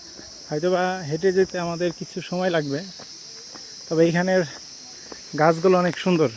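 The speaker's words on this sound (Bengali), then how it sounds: "প্রচুর পরিমাণ ঝিঝি পোকার ডাক" Crickets on a Nepal hillside near Nagarkot make a steady high chirring drone throughout, under someone talking in bursts close by.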